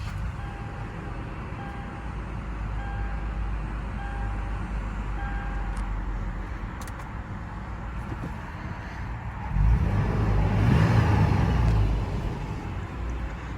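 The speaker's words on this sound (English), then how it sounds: "Hear that 4-liter V6 come to life." A 2015 Toyota 4Runner's 4-liter V6 idles as a steady low rumble, then swells into a louder, rougher surge for a few seconds before settling back to a smooth idle.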